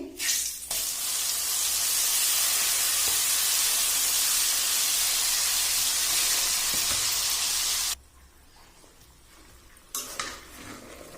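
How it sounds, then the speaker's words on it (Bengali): Blended boiled chana dal hits hot soybean oil with cardamom, cinnamon and bay leaf, a loud dense sizzle lasting about seven seconds that cuts off abruptly, followed by quiet and a brief clatter. "ব্লেন্ডারে বেল করে নেওয়া ছোলার ডাউলটা আমি দিয়ে দিচ্ছি"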